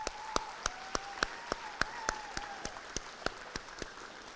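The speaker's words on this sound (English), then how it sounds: "I want to give a big round of applause again for the jazz band." Steady, evenly spaced claps ring out in a school event hall after a student jazz band performance, sparse and fairly faint over a soft background hum.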